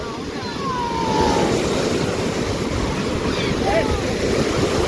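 Sea waves at RK Beach make a steady, loud wash of surf with a low rumble of wind across the open shore, with faint voices in the background.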